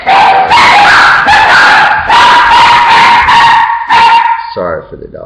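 Several dogs barking loudly and repeatedly close by in a run of strained, overlapping barks, ending in a few higher yips and whimpers.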